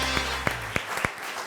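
Studio audience on a comedy talk show breaking into scattered claps, a few sharp distinct hits standing out over a low murmur and background hum in a short burst.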